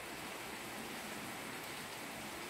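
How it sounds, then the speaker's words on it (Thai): Soft, steady rain falls without a break, a faint, even hiss with no voices or other sounds. "ฝนยังไม่หยุดเลยค่ะ"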